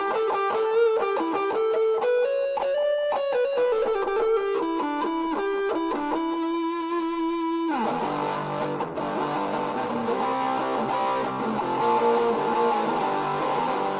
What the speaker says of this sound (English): So then if we add a little bit of chorus to it